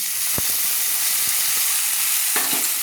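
Ginger-garlic paste frying in a pan, a dense continuous hiss with a few soft scrape and tap sounds from stirring, close and steady with no voices.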